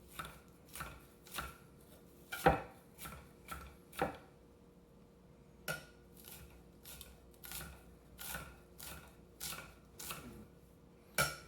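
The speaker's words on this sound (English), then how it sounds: "you can just go back and forth with your knife until you get them finely cut" A knife chops food finely on a flat cutting board in sharp, evenly spaced taps, some quick pairs and some single strokes, close but quiet in an otherwise silent kitchen.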